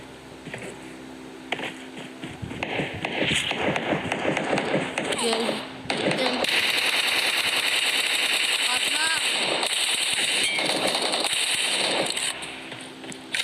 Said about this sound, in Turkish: silah sesi oradan geliyor